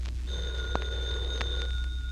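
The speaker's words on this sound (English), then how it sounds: "There's the phone, Mumsy." An old-fashioned telephone bell rings indoors in repeated short bursts with brief gaps between them, clear and fairly close, alone without voices.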